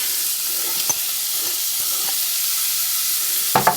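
Onion frying in a little oil over leftover beef in a pan, a quiet continuous sizzle and hiss with a few light stirring taps and a sharper clatter near the end.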